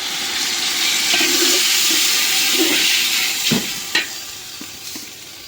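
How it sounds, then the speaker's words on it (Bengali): Water poured onto frying onions and green chilies sets off a loud, rushing hiss of steam and sizzle that slowly settles, with a few clinks and scrapes of stirring near the end, close by and without talk. "এখন একটু পানি দিয়ে দিই"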